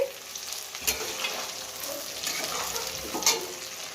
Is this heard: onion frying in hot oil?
yes